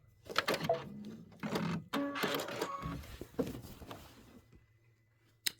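Short bursts of a sewing machine stitching a quilt start and stop in quick succession, close and fairly loud, with brief mechanical whirs between pauses and a final sharp click.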